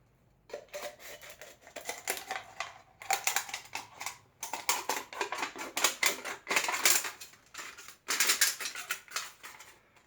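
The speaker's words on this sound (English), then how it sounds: "It's just a regular old can opener." A regular hand can opener cuts around a tin can in rapid, ratcheting clicks, delivered in several bursts of steady clicking with short pauses between them, close and fairly quiet.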